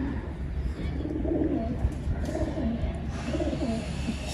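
Several soft, low pigeon coos repeat close by over a steady background rumble, with faint rustling and no clear talking.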